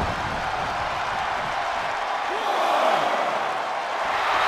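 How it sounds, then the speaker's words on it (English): A dense, roaring arena crowd in the WWE 2K22 game cheers steadily throughout a SummerSlam match between Roman Reigns and Brock Lesnar, loud and continuous with a slight swell midway. "The sound of this crowd is deafening, and he's asking for more."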